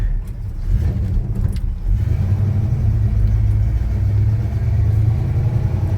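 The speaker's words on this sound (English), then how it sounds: "Now remember, this is a 4-speed, so I might have a little trouble shifting and driving at the same time." Chevy C10 pickup with a 4-speed manual, driving down the road: a constant low engine drone and road rumble heard from inside the cab, loud and steady throughout, with faint rattles and no speech.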